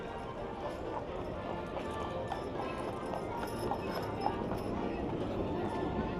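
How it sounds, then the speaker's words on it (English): Hooves of a horse pulling a carriage clip-clop steadily through a busy theme-park street at Disneyland Resort, blended into dense crowd chatter and ambient noise. "Horse carriage coming through."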